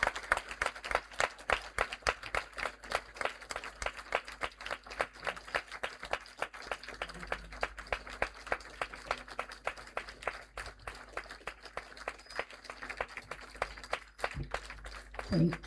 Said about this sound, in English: Kindly, keep clapping.